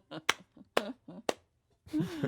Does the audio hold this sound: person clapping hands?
yes